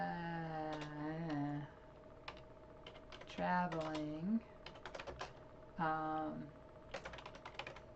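Keys clatter in quick irregular bursts on a computer keyboard while a person talks over them, the tapping continuing in the gaps between phrases at a moderate, close level.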